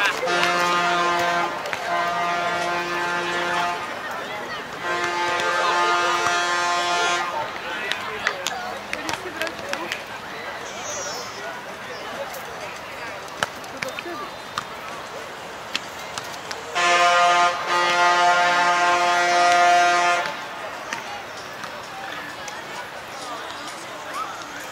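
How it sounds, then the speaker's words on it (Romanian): A horn-like tooting from an amusement park behind a seaside area in Uruguay, sounding like a bus honk, comes in long sustained blasts at the start, middle and end, loud over street ambience and people talking. "Te gândești că ar claxona un autobuz, dar de fapt e un parc de distracții în spate și sunetul e fix din parcul de distracții."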